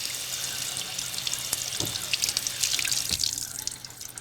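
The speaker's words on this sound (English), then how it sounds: "So I'll rinse the rice like that." Rice is rinsed in a strainer under a running kitchen tap, a steady hiss of flowing water with scattered splashes and a few louder spatters as the grains are moved, no voices.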